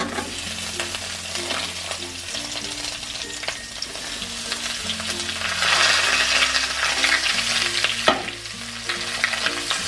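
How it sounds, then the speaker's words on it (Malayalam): Onions sautéing in oil with asafoetida and dried red chillies for tomato chutney crackle in a continuous close sizzle, broken by metallic spoon scrapes and clinks against the pan, and quiet background music plays beneath. "ഉള്ളിയിട്ട് നന്നായി ഒന്ന് വഴറ്റുക"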